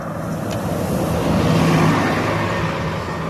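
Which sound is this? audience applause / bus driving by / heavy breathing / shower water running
bus driving by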